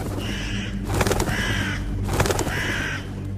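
A crow caws twice in loud, harsh bursts with wingbeat flapping between them, close and alone as a story sound effect.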